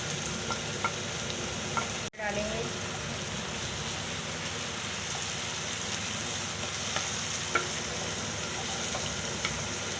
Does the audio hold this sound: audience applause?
no